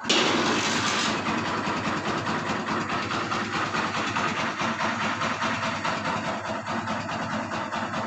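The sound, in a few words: Kawasaki Barako 175 motorcycle engine kick-started and idling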